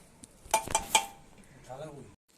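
Metal plates and dishes clink and clatter in a home kitchen while food is served, a quick cluster of sharp ringing knocks followed by softer shuffling, with a voice speaking nearby.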